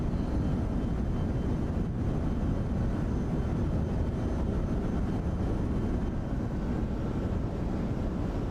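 An Airbus A340 climbing just after takeoff in Microsoft Flight Simulator 2024 gives a steady, broad engine roar, dense and unchanging, with no voices over it.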